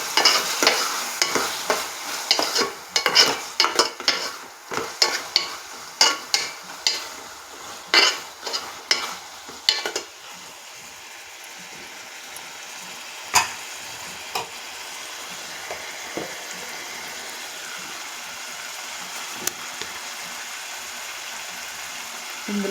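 Raw prawns fry with softened tomato and onion in a pan, stirred with repeated sharp scraping clacks of a spoon against the pan over a steady sizzle, the stirring easing off halfway and leaving mostly quiet frying with occasional taps.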